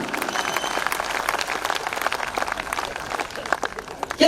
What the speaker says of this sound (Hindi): तालियां कम रह गई आपकी।